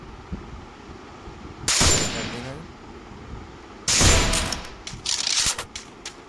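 Gunfire from MP40 and UMP submachine guns in the mobile game Garena Free Fire, with two loud bursts of rapid shots and a few shorter trailing pops, over a faint game background.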